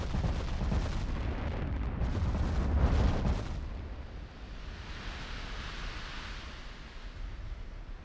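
Heavy 19-inch battleship shells boom in a naval battle game, a dense rumbling barrage of blasts for the first few seconds, then fading into a hissing, washing roar of distant splashes and sea.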